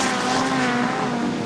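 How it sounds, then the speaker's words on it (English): A 1977 hot rod race car roars past on the Wimbledon stadium oval, a loud, steady engine drone close by with no break. "There's the lead car, 109."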